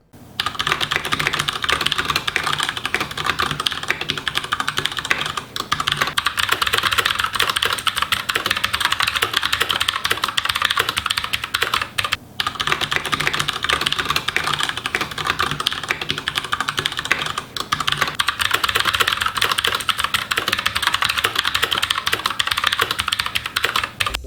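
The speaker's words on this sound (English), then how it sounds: "now listen to how the keyboard sounds compared to a Cherry MX brown keyboard." Steady, fast typing on a Redragon Kumara K552 mechanical keyboard, a dense run of muted tactile keystrokes close up, continuous for the whole stretch with only a couple of brief breaks.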